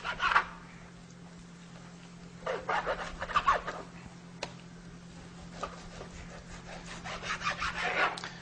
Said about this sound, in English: I'll cut them roughly about the same size as a chicken breast.